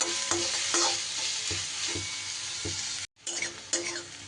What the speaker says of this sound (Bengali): পেঁয়াজটার মধ্যেও খুব সামান্য পরিমাণ একটু নুন দিয়ে দিলাম, বেশ তাড়াতাড়ি তাহলে ভাজাটা হয়ে যাবে